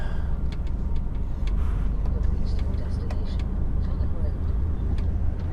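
A truck pulling a trailer edges round a tight corner in a small yard, its engine a steady loud low rumble throughout, with faint clanks and hisses on top.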